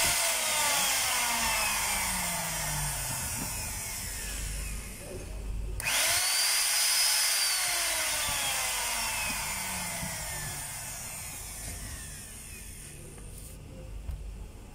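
Stanley STHM5 power tool running on test after a shaft and armature repair, a loud continuous motor whine that cuts out briefly and spins back up, close with no talking.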